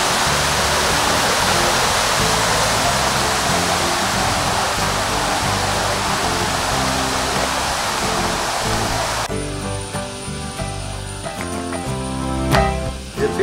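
Loud, roaring rush of the Thommenkuthu waterfall fills the scene continuously, then the sound shifts abruptly and thins out near the end.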